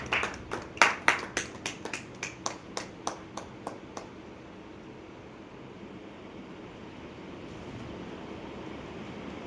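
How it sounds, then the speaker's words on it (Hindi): An audience at a welcome for a guest speaker claps in a sharp, rhythmic series of about a dozen loud claps over four seconds, then the room settles into a faint murmur of background noise. "आप लोग की एक बार जोरदार तालियों के साथ उनका स्वागत करते हैं"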